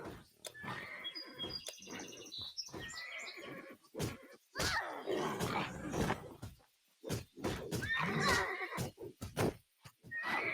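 A horse in the video game Titan Quest neighs in several loud, shrill whinnies that rise and fall, separated by short pauses, with some chirping game ambience around them.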